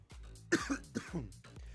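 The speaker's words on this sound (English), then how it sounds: "I apologize in advance for how many times I'm going to cough during the stream." Someone still recovering from COVID coughs and clears their throat several times in quick succession, close and fairly loud, with no talking.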